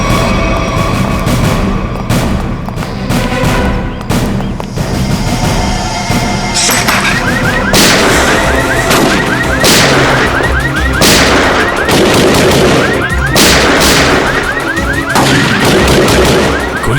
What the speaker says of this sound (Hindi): गोली चला कौन रहा है?